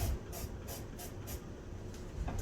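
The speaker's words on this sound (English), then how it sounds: "So we're going to spray it with some canola oil." Canola oil sprayed onto an 8.5 to 9-inch baking pan gives about five short, bright hissing bursts in a steady rhythm, close by, over a low background rumble with no talking.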